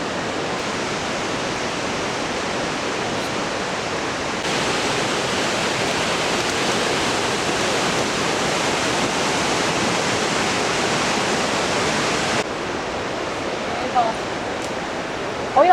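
Iguazu Falls gives off a heavy, continuous roar of rushing water, a dense wash of noise that swells a little partway through and holds steady.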